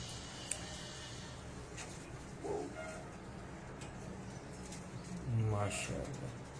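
Pigeons cooing nearby, two low rolling coos a few seconds apart over a constant background hiss, with faint voices talking in the background.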